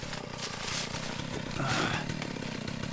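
A large chainsaw cutting oak trees roars steadily and loudly nearby, its engine pitch rising and straining slightly as the blade bites into the wood.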